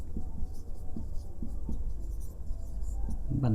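Chalk or marker strokes on a board while a concave mirror lesson is written up: a steady run of scratchy, rhythmic taps and scrapes, close and fairly loud, with no talk over them.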